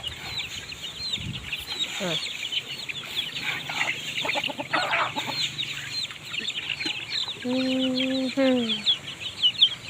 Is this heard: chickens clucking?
yes